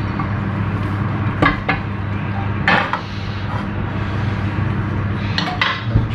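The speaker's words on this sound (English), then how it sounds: "let's turn the heat off and pop them into pestle and mortar" Toasted spices tipped from a pan into a pestle and mortar in a home kitchen, a few close clattering and clinking knocks against a steady background rumble.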